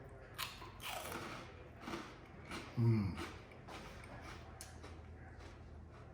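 Homemade pumpernickel croutons are bitten and chewed up close, giving a few short crisp crunches with one louder bite near the middle, against quiet background and a brief spoken word.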